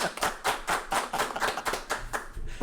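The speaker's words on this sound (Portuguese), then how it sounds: "Palmas para Leandro Cordeiro." A few people clapping on a podcast, sharp distinct hand claps in a quick, slightly uneven rhythm, close and fairly quiet, with no talk over them.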